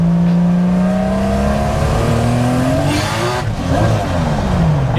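Toyota 2JZ-swapped Nissan S14 engine revving hard while driving, its pitch climbing steadily through the gears with a brief dip at a shift, loud and close from inside the car, with no talking.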